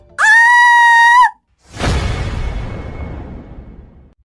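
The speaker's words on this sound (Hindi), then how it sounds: "जोरों से चीखने लगी" A piercing, sustained female scream rings out loudly, then a heavy crash follows after a short pause and fades away.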